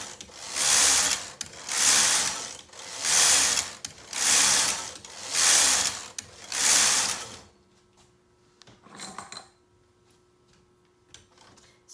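A domestic knitting machine carriage pushed back and forth across the needle bed, knitting waste yarn: six rhythmic, loud ratcheting passes, each a clattering mechanical sweep, then quiet with a couple of faint clicks.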